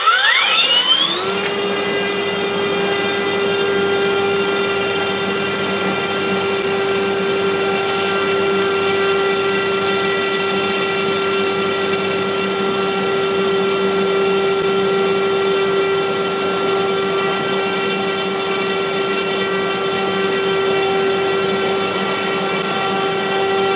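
An electric RC plane motor runs steadily on a test stand, spinning up in the first second to a constant high-pitched whine with a strong buzzing hum, loud and close. It holds an even pitch for over twenty seconds with no talking.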